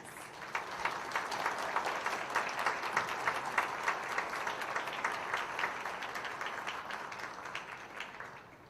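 Audience applause at a high school National Honor Society induction ceremony: steady, dense clapping from a crowd in a hall, holding for several seconds before tapering off at the end.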